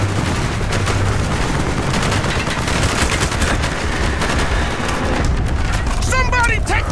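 Rapid machine gun bursts in the Call of Duty: Black Ops village firefight, dense and continuous at close range with other gunfire and battle noise, and voices shout orders throughout.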